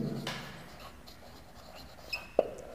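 Soft scratchy writing strokes on a board, faint and continuous, ending with a couple of sharper taps as the marker or chalk meets the surface.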